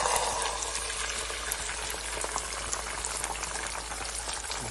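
Butter sizzles in a pan while breakfast cooks, a steady, close, crackling hiss that runs without a break and carries no voices.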